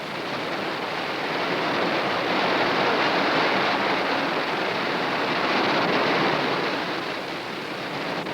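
Surf pounding a shoreline, a broad continuous roar of breaking waves that swells and eases slightly, loud and close with no voices.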